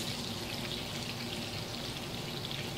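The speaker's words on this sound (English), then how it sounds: "just going to add these vegetables, some onion," Onion, carrot and celery cook in a hot pan over a burner, making a steady, even sizzle with fine crackle throughout and no voices.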